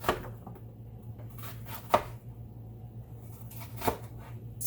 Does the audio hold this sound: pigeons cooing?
no